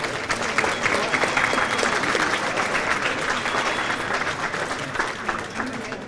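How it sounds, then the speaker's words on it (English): Sustained applause from a banquet audience at an adult bowling awards night, steady and dense for several seconds, with faint voices underneath. "one more round of applause for our Division II winners"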